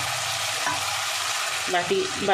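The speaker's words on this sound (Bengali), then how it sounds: "জল দিয়ে ভালো করে কষাবো মশলাটা।" Spice paste sautéing in a pan with a splash of water for a tilapia curry with new potatoes and kohlrabi, a constant sizzle under scraping stirs and a few clinks of a utensil toward the end.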